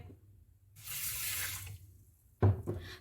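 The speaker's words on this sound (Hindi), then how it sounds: "शीरे के लिए 1 कप चीनी लिया, 1 कप पानी का डालेंगे" Water pours from a tap into a cup of sugar to start syrup for kunafa, a steady splashing stream for about a second, then brief gurgling splashes after a pause.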